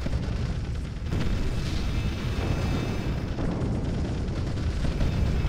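Weapon fire in the space strategy game Sins of a Solar Empire Rebellion, modded with Stargate content, sounds as a dense, loud, continuous rumble of booming shots and explosions with no talk over it.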